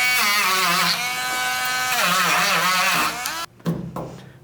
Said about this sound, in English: Let's grind this rust off of here first